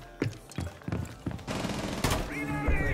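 Gunfire in the video game Rainbow Six Siege: a handful of sharp single shots followed by a rapid automatic burst, loud and close, with a brief mechanical clatter at the end.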